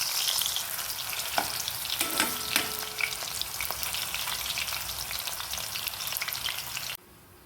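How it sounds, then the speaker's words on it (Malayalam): Vigorous bubbling sizzle of chips frying in hot coconut oil on a low flame, continuous and close, with occasional crackles and utensil clinks before it cuts off. "ഇതാ നമ്മുടെ വെളിച്ചെണ്ണ ചൂടായി ഇരിപ്പുണ്ട് ഇനി നമുക്ക് ഇവിടെ അങ്ങോട്ട് ഇട്ട് കൊടുത്തിട്ട് വറുത്ത് നോക്കാം"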